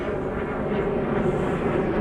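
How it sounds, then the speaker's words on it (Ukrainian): An airplane flies overhead in the United States, a steady broad engine roar with no distinct peaks, continuous and fairly loud for the whole stretch. "в мене тут літаки постійно літають"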